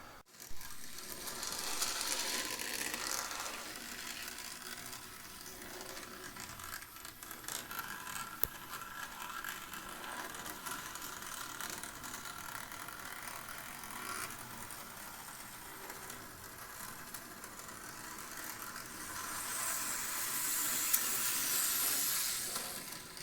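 Model N gauge steam locomotive running on a small micro layout track: a continuous mechanical whir and clicking rattle with a hissy edge, steady and close throughout with no talk.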